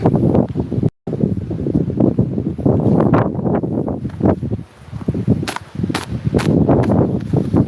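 Gusty wind buffets the microphone in rough, low rumbling waves, with brief dropouts and a few sharp clicks near the end.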